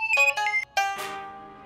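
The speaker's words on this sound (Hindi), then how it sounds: "फोन आया, देखना। 1 मिनट।" A phone ringtone sounds for an incoming call, a loud melodic electronic tune of several bright tones that cuts briefly, then returns and rings out with a fading tail, with no one talking over it.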